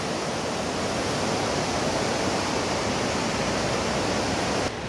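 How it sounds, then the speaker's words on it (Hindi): The Beas river roars through the Himalayan hills at Kullu, a dense, constant rush of fast-flowing water that fills the air steadily without a break and without any voices. "ये व्यास नदी का शोर कुल्लू में।"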